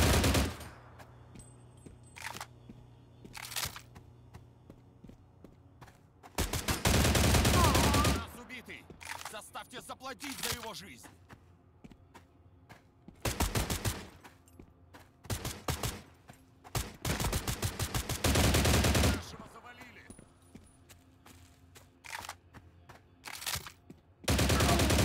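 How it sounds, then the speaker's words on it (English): Bursts of automatic fire from an AK-74 rifle in the game Stalcraft, loud rapid volleys lasting one to two seconds separated by quieter gaps with a few single shots, while someone talks. "Recoil is quite difficult to control on this weapon. Which is kind of weird, it's an AK-74"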